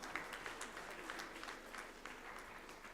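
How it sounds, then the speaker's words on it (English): Audience applause at a panel discussion on tuberculosis elimination and primary care, steady clapping from a room of people holding at an even level throughout, no talk over it. "Please give a big round of applause"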